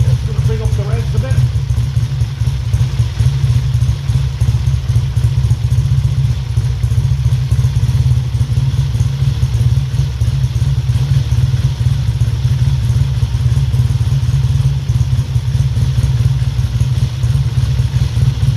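A 1968 Triumph T100C motorcycle engine ticks over at a fairly low idle, close and loud, with a steady mechanical chatter throughout.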